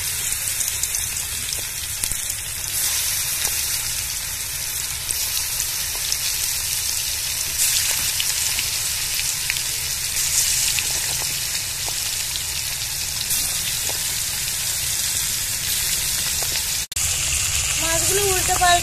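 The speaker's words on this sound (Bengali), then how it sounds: "আমি মাছগুলো ভেজে নেব প্রথমে।" Stingray pieces rubbed with turmeric and salt fry in hot oil, giving a steady, dense sizzle and crackle that holds evenly throughout. There is a brief interruption near the end, then the frying continues.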